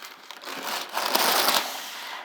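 Parchment paper pulled from a roll and torn off to line a roasting pan for two roast chickens, a dry crinkling rustle that swells to a louder tearing burst in the middle, close and alone without talk.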